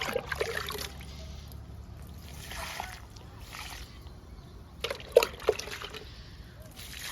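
Liquid plant feed poured from a watering can onto garden marigold, coleus and chrysanthemum plants: a faint, steady trickle and slosh with a few sharper splashes near the end, with a voice speaking softly at times.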